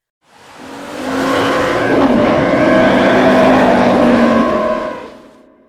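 A recreated Star Wars TIE Fighter sound effect, a loud engine-like roaring whoosh that fades in, holds steady with a gritty, slightly breaking texture for several seconds, then fades away.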